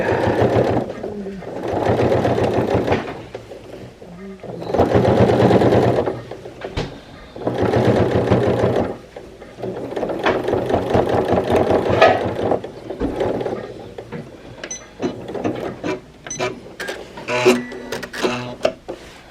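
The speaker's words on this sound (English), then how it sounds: "this is the only sewing machine that I have that can handle this thickness of fabric." A sewing machine stitches thick denim in bursts of rapid mechanical stitching, pausing briefly between runs, close and fairly loud with clicks and whirs.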